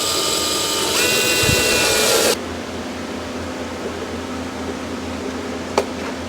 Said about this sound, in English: Now I'm going to grab my step drill.